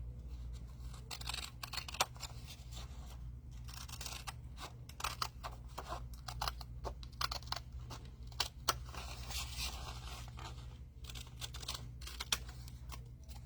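Scissors snipping through paper in a crafting session, a quick irregular series of crisp close cuts, quiet and alone without talk.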